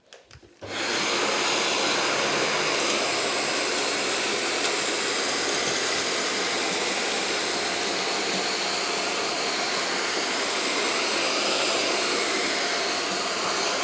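A Shark Anti Hair Wrap DuoClean AZ950UK vacuum cleaner starts up after a brief clatter and then runs steadily at full power, set to the upper suction setting. The motor gives a loud, constant, broadband whoosh with no talking.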